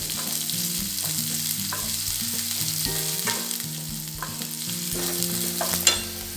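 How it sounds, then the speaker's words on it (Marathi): Chopped onion fries in a pan for spongy butter dosa, giving a steady close sizzle while being stirred. Background music plays over it and no one speaks. "थोडासा मोठा असा कांदा चिरून घेतलेला आहे, तोही व्यवस्थित त्याच्यामध्ये आता आपल्याला फ्राय करून घ्यायचा आहे"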